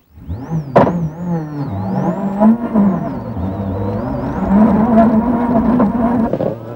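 A Rovanperä rally car that has stalled and lost second and third gear revs and whines loudly up close, its engine pitch sliding and wavering unevenly with a sharp bang near the start.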